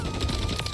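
Rapid burst of Micro SMG fire in a Call of Duty match, a tight stream of close, loud shots packed into under a second.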